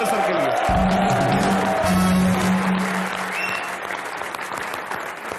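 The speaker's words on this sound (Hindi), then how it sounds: "एक बार जोरदार तालियां रजत सर के लिए।" Loud, sustained applause from a studio audience for Rajat Sharma, with a dense wash of clapping and a steady tone partly overlapping near the start.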